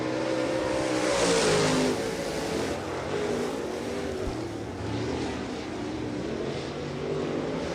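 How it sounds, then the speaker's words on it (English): Modified race cars roaring past during qualifying at County Line Raceway, a loud engine pass swelling then fading into continuous distant engine drone and revving from cars around the track. "So a couple of cars getting loose there for just a minute"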